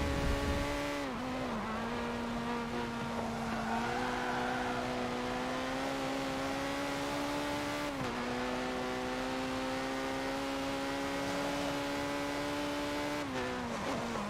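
Racing video game car engine drones steadily, its pitch stepping down with each gear shift at roughly one, eight and thirteen seconds while passing Beetles, loud and close with no talk.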